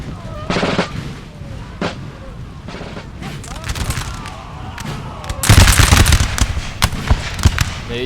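Musket lines in a Napoleon Total War multiplayer street battle for Dresden let off ragged volleys, with scattered cracks building into a dense crackling burst of fire, while a voice speaks between shots.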